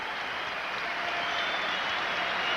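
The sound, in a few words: crowd applause at basketball game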